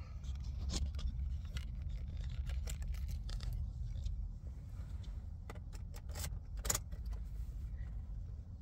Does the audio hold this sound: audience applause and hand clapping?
no